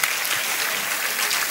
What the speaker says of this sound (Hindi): एक मर्तबा इस कवि सम्मेलन के लिए जोरदार तालियां आप बजा दें।